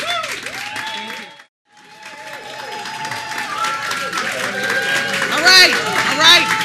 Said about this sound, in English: All right with the clapping. Enough already.